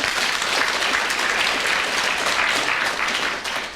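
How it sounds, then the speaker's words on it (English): A studio audience at a radio panel game claps steadily and loudly throughout, a dense wash of applause that tapers slightly at the end. "Clap if you think so."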